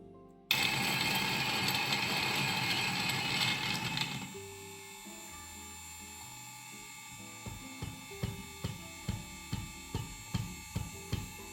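A Starseeker E55 coffee grinder runs loudly for about four seconds with a dense whirring grind, then turns quieter and settles into a steady series of sharp mechanical clicks, heard alone.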